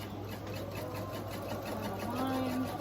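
A home sewing machine runs steadily while stitching a quilt seam, a continuous close whirring hum with a faint mechanical rhythm throughout.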